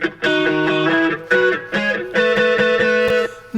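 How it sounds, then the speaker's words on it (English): Distorted guitar chords with a reversed reverb tail, reverb added again, swell in backwards, each note rising into a sudden cutoff, repeating in a steady heavy pattern. "a reversed reverb tail that I then put reverb on again"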